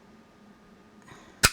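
A paper hole punch snaps through a paper tag, centering a 1/4 inch hole inside a 3/4 inch hole, giving one sharp, close click after near silence.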